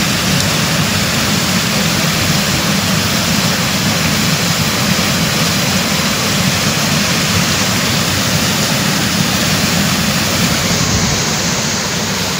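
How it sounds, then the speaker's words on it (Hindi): Water rushing at speed out of a water-powered flour mill (aata chakki), a loud, steady, broadband roar close by that holds unbroken throughout, with no talking. "ये देखे काफ़ी स्पीड के साथ पानी जा रहा है।"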